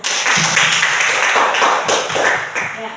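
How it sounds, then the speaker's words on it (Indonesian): Classroom applause for a student group after a presentation, a short burst of close, steady clapping from several pupils in a room. "Tepuk tangan buat kelompok 1."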